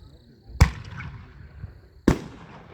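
A firework shell that breaks half red and half blue with brocade bursts twice, each a sharp nearby boom followed by a crackling, hissing fall of stars fading into quiet.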